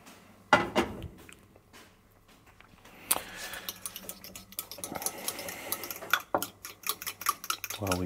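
Onions and mushrooms being beaten and stirred in a pan, a busy run of scraping, clinking utensil strikes against the cookware with sizzling underneath, close and fairly loud with irregular bursts.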